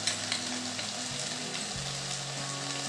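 Onion, tomato and red chili powder sautéing in a pan for moth bean usal, a continuous soft sizzle and crackle with a low background hum, close and steady, no talking.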